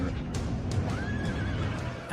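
Cavalry horses neigh in a battle reenactment of the 1689 Siege of Derry: one loud, drawn-out whinny rises over a dense rumble of hooves and battle noise.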